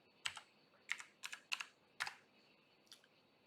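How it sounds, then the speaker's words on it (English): Short bursts of clicky keystrokes on a computer keyboard, about five quick clusters spread over a few seconds and then one softer tap, quiet and close with no talking. "So I'm going to type in here Pack B."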